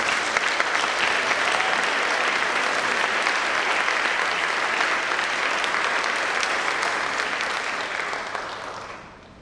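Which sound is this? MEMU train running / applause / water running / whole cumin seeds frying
applause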